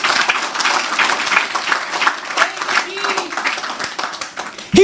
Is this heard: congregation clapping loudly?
yes